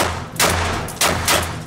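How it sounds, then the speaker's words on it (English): Simulated gunfire from a Rambo-themed alarm clock: three sharp, loud bursts of broadband noise, each dying into a brief rumble, with no voices. "Wakes you up to simulated gunfire every night."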